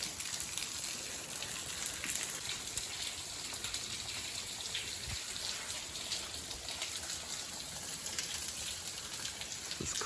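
Water falls and splashes steadily at the entrance of Sand Cave, a continuous soft hiss of droplets and trickling that stays faint and unbroken throughout.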